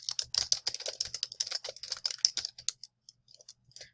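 Rapid, uneven clatter of keys as code is typed on a computer keyboard, close and distinct, with a burst of dense keystrokes followed by a few sparse taps and then near silence.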